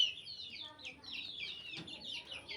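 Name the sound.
crested chicken clucking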